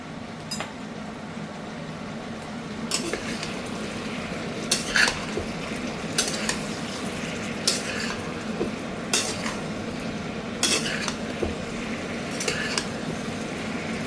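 Ginger, green chili and cumin paste sautés in a pan for a Malabar spinach curry, a soft steady sizzle broken by several sharp clinks of a spoon stirring against the metal.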